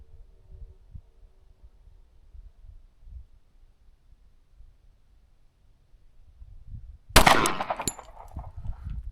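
A Kimber 1911 .45 ACP pistol fires during load testing, a sharp loud report with a quick follow-up shot and ringing echo, standing out after a long stretch of quiet outdoor background.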